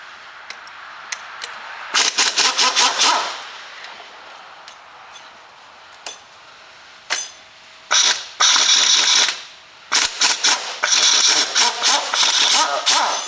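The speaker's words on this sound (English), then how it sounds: "I'm going to use the air gun." A pneumatic air impact gun undoes bolts on a Peugeot Partner engine during a timing belt job, firing in loud rattling bursts of a second or more, separated by short pauses and quieter clicks, close up.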